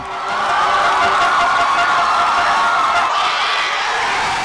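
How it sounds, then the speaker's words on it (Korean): At Sajik baseball stadium in Busan, a huge crowd of fans raises a dense, sustained roar of massed voices that swells and holds steady, loud and close. "관중들은 오늘도 어김없이 부산의 노래를 부릅니다"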